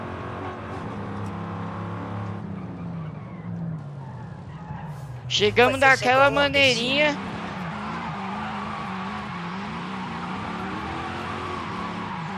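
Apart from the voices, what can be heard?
car tires skidding and smoking in Forza Horizon 5 video game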